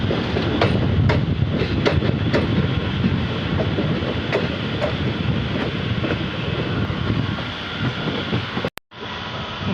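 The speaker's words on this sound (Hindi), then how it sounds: "गोमती नगर रेलवे स्टेशन पर ट्रेन का अराइवल होता हुआ" Passenger train arriving at Gomti Nagar railway station, a steady loud rumble with repeated wheel clicks over rail joints, continuous and close, ending in a sharp cut near the end; no talk.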